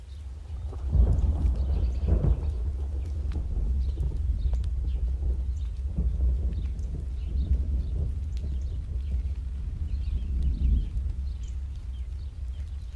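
Heavy thunder rolls beneath rain, with loud low rumbles swelling early on and again near the end over a continuous steady rain wash.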